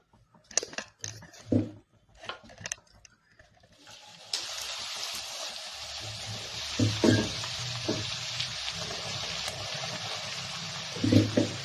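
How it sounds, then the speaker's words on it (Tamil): Food frying in oil on a low flame, a steady hissing sizzle that starts partway through after some sparse clatter and handling noises, with occasional louder utensil knocks. "சிம்மிலேயே நல்லா இது பொரியணும்"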